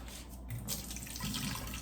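Water from a tofu package is poured off and splashes steadily into a sink, a continuous wet rushing with a few gurgling surges, fairly close and with no talking.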